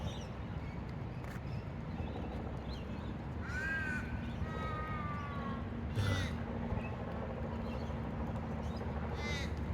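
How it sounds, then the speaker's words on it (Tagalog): Crows cawing in Mawson Park, Campbelltown, Sydney, Australia: several harsh caws, some distant and some nearer, over steady outdoor ambience with a faint voice in the background. "Napakadami po ng uwak dito sa Australia po."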